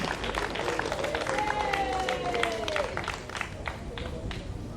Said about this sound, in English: Give him a round of applause for his outstanding work over 17 years